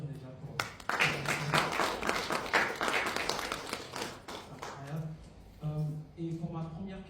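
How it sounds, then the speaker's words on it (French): Brief audience clapping at a talk on passing on Congolese culture, a short patter of applause that rises and fades beneath ongoing speech, with a voice speaking again toward the end. "Est-ce qu'on peut applaudir déjà pour..."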